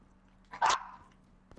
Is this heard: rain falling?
no